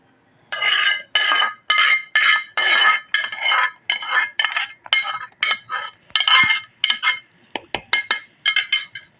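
Homemade three-ingredient mango ice cream batter beaten vigorously in a bowl, a loud, steady run of rhythmic whisking bursts with utensil clinks against the bowl, close and alone.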